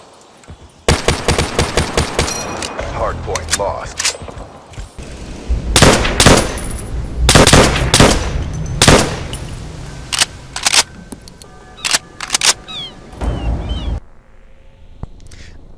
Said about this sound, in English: let you guys listen to the sounds of both Black Ops 3's MX and Hardpoint contested